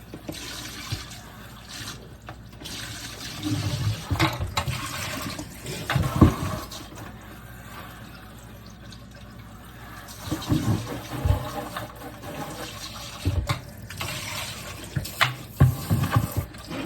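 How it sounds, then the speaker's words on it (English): Water runs and splashes as excess salt is rinsed out of a bucket, several bursts of gushing flow separated by quieter stretches, close and without talk. "just rinsing the excess salt that was left over in the bucket so that I don't have a salty mess"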